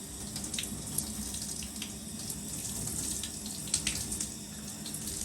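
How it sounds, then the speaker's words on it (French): A shower head on very low pressure runs water over hair during a gentle rinse after a hair transplant, giving a soft, steady, close hiss of flowing water with faint splashes and no talking. "tu prépares le pommeau de douche encore avec très peu de pression"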